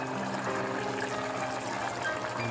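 Coconut milk pours into a pot of pumpkin curry, a steady close liquid splash and trickle running without a break for a couple of seconds.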